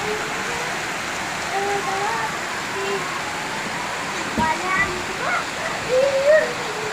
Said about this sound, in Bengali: কালকে এলাকায় বৃষ্টি হচ্ছে কম করে অনেক বৃষ্টি পড়তেছে